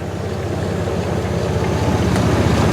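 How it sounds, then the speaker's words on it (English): The air conditioning compressor on a 2000 Chevrolet Blazer 4x4 runs under the hood, a loud, steady, close mechanical drone with rumbling low pulses and no talking. "Hey, your compressor works."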